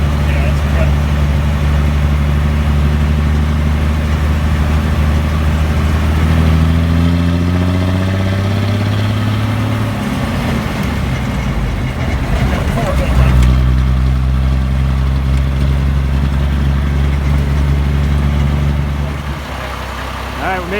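A military M756A2 pipeline truck's diesel engine runs loud and close. Its low, lumpy idle rises and falls as it is revved, while people talk over the running engine.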